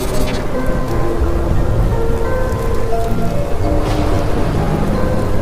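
Heavy rain falls steadily and loudly, a dense, continuous hiss of drops close by, with occasional faint rumbles behind it in an animated Hindi village story.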